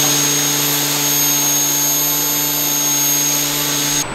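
A milling machine cuts two small holes in a metal part for a homemade toe jack, giving a loud, steady whine with a constant tonal hum that holds throughout and stops abruptly at the end.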